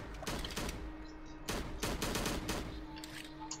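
Rapid pistol shots in the horror game Slendytubbies 3, a glitchy pistol firing twice per trigger pull, sounding as several sharp cracks in close pairs and bursts, loud and near, with no talk over them.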